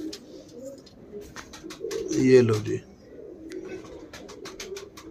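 Punjabi Malwai pigeons, male and female, coo in a coop, one rolling coo rising loudly near the middle over softer background cooing and chirps, while someone talks nearby.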